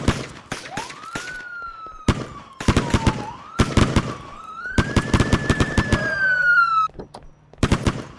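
Police car sirens wailing in the MadOut2 game, a rising and falling tone over repeated loud bursts of gunfire.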